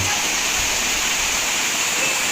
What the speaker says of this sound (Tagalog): Ito yung Bagak Falls sa pinagmamalaki nila dito.